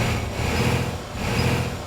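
A Ford F-MAX diesel truck engine in Euro Truck Simulator 2 drones steadily with a deep, grunting rumble that swells slightly twice, heard alone without talk.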